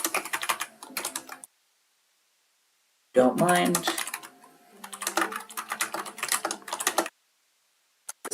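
Rapid clicking of keys on a computer keyboard comes in close, steady bursts separated by pauses, while a voice briefly speaks over the typing.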